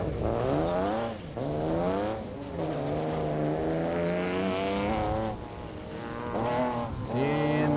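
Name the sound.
autocross race car driving the course, F Prepared class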